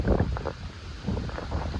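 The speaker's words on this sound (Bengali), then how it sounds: "যা হাওয়া ছাড়ছিস।" Gusty wind buffets the microphone in steady broadband rushes, loud and close, with no voices.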